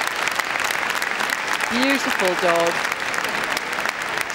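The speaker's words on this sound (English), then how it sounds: "Huge roar from the crowd, yes, appreciation of their sportsmanship." Crowd roaring and applauding at Crufts for a Hungarian Vizsla in the Gundog Group, a steady wash of clapping throughout with a voice speaking over it.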